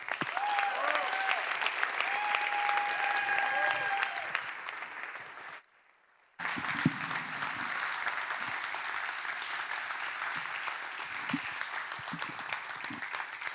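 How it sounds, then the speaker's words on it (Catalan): Loud, sustained applause from a large audience fills the room, dipping briefly to near silence before clapping resumes with scattered louder claps. "Rebem amb un fort aplaudiment"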